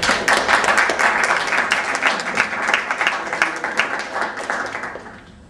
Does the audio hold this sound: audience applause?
yes